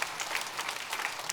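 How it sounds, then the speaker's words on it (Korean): Church congregation clapping in encouragement during a Sunday morning service, a brief steady burst of many hands at moderate loudness, continuous and even throughout. "우리 박수로 한번 응원하시면 좋겠습니다"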